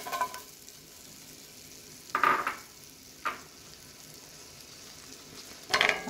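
Garlic sizzles in a frying pan, a soft, continuous frying hiss broken by three brief, louder scraping bursts of stirring, with no talk.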